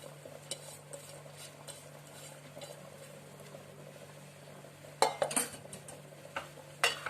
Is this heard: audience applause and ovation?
no